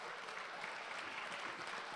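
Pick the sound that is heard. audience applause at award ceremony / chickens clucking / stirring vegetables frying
audience applause at award ceremony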